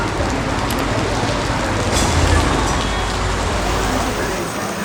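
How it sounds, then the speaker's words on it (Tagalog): Heavy rain pours steadily and loudly on a surface in Hanoi, a dense continuous hiss with low rumble filling the whole stretch. "ang lakas ng ulan"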